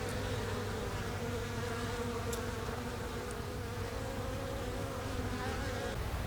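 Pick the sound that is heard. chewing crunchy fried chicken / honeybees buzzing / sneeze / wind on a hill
honeybees buzzing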